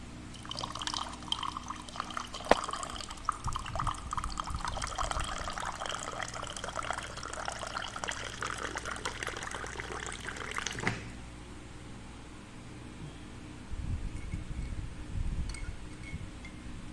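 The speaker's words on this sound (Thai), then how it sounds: "นมอุ่นแต้มดำดำเรียบร้อย" Warm milk pouring into a baby bottle at night, a thin continuous trickling stream for about eleven seconds, then a quieter stretch with faint handling noises and no one speaking.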